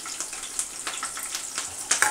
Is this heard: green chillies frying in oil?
yes